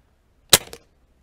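A single sharp air rifle shot from a Seneca Dragonfly MKII, a crisp crack followed by a faint metallic after-snap, alone in quiet surroundings.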